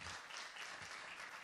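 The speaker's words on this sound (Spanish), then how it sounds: "Démosle un aplauso al Señor." A church congregation claps briefly and steadily, a short burst of applause filling the room at moderate volume.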